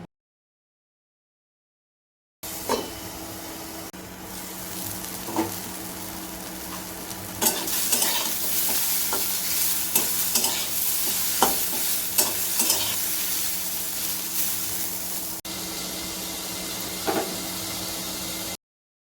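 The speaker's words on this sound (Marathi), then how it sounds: "तर आता चला याच्यावर झाकण ठेवूयात आणि एक 5 मिनटे दोडका शिजवून घेऊयात" Ridge gourd cooking in a covered pan gives a continuous close sizzle and crackle after a silent start, with scattered soft knocks and clinks of the lid and pan.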